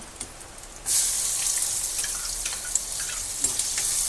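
Sliced onion dropped into hot oil for a breadfruit palya, bursting into a loud, sustained sizzle after a quieter start, close up and steady with faint crackles and no talk.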